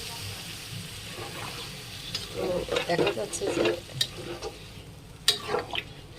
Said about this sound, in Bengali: এই যে দেখেন টক বক করে ফুটছে